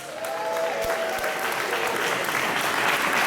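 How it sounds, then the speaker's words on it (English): Audience at the British Blues Awards 2013, held as part of a festival, giving a sustained round of applause, a loud, even wall of clapping with a faint tonal sound near the start. "So give the whole festival a round of applause,"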